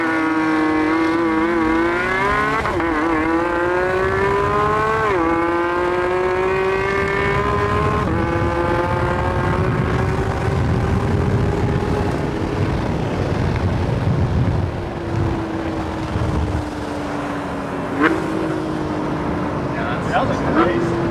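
Porsche GT3 RS flat-six engine accelerating hard from a drag race launch, a loud, close, rising whine climbing through several gear changes over about twenty seconds, with people talking inside the car.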